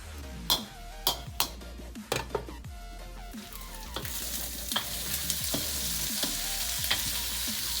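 Chorizo cooks in a pan with a splash of water for a paella, giving a steady sizzle and bubbling frying noise, with sharp clicks and stirring knocks of a utensil against the pan spaced through it.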